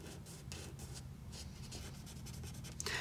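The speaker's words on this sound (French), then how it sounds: "je vais rajouter une petite épaisseur avec le feutre à alcool noir" A black alcohol marker colors in a surface on paper, making a quiet run of short, scratchy strokes that repeat with a brushing rhythm. No one speaks.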